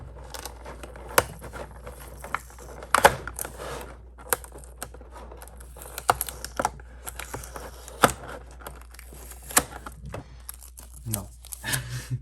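Tape being pulled and torn off a toy's plastic packaging, sharp ripping and crinkling bursts repeating in irregular spurts, close by, with someone speaking in between.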